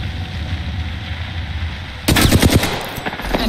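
Gunfire in Apex Legends: after two seconds of low game ambience, a sudden loud, close burst of rapid automatic shots cracks out, followed by a few scattered trailing shots.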